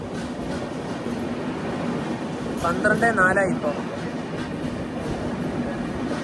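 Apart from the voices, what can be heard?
Vivek Express train at New Alipurduar Junction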